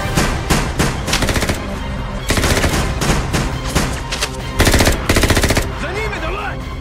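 Loud bursts of rapid automatic gunfire come in several rattling volleys separated by brief pauses, followed by a warbling electronic tone.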